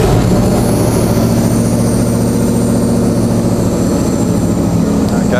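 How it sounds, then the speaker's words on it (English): An engine idles steadily on a Haltech waterproof ECU test rig, a loud, constant low rumble that drones on unbroken throughout. "we'll just get the engine up and running"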